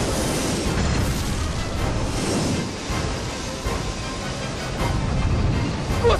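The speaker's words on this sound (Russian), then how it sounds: "Взрываю заряды!" Deep rumbling booms from explosive charges detonating in the video game Aliens: Colonial Marines roll through repeatedly, heavy explosions with low thuds and crackling debris, loud and continuous throughout.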